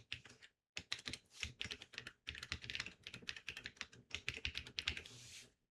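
Fast, uneven typing on a computer keyboard, close and crisp, with bursts of clattering keystrokes separated by brief pauses and no voices.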